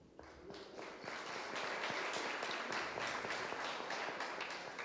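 An audience at a formal ceremony applauds steadily at moderate volume, a dense patter of many hands that swells slightly after the start and holds evenly to the end.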